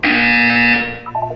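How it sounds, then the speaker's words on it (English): A loud, sustained electronic buzzer tone from the video game Portal 2, sounding alone for about a second before tapering off with a few brief warbling blips. "When you hear the buzzer, look down at the floor."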